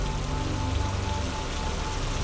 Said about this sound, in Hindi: थोड़ी देर में बहुत तेज बारिश भी शुरू हो गई